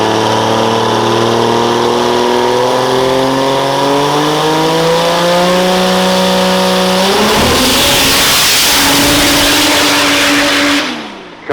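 A diesel pro dragster from the Outlaw Diesel Super Series makes a record drag racing run, its engine roaring loud and close with rising pitch as it accelerates down the track without shifting, then fading as it passes.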